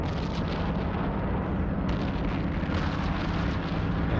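Weapons fire from a small base in EVE Online, a continuous rumbling barrage of booms and bursts, dense and steady throughout.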